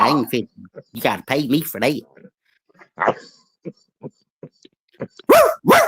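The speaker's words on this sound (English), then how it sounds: "That's my dog" A dog lets out several sharp barks and yelps in short bursts, close and loud, interleaved with someone talking.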